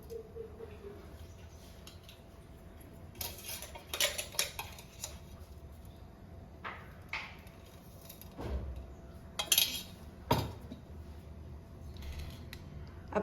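Roasted dried prawn chutney powder moved by hand into another container: scattered metal spoon clinks and scrapes against pots and dishes, irregular and close by, with quiet gaps between the sharper knocks.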